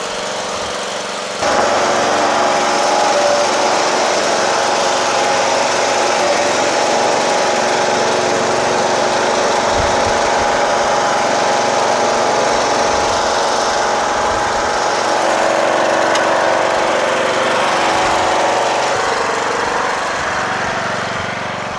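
A tractor engine fitted with a repaired, welded muffler runs steadily nearby, a loud continuous idle-like drone with a light vibrating buzz and no talk.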